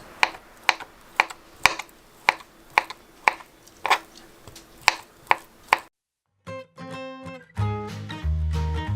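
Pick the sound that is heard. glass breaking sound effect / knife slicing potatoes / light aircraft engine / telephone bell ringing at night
knife slicing potatoes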